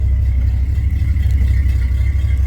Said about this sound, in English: I know it's kind of loud, excuse me, without the exhaust running all the way back